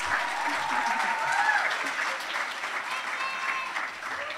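Applause at a senior graduation ceremony for high school athletes being honored, a steady wash of clapping from a large crowd with faint murmuring voices beneath, moderately loud throughout.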